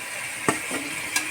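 Potatoes tossed into a pan of spiced tomato masala, a steady close sizzle with two quick stirring knocks.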